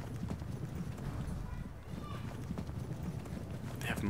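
Cavalry horses in the video game Pike and Shot make continuous close clip-clop hoofbeats over a busy battle background, with a voice talking at the same time.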